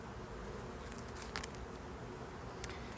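A faint, steady drone of many honeybees buzzing at a hive late in the day, with occasional soft ticks and taps over a constant hum.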